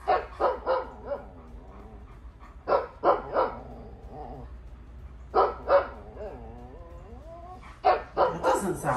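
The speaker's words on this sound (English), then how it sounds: "here's bark like a dog" A voice assistant plays a dog barking, loud clustered barks in short bursts separated by pauses, with whiny, howl-like tones in between.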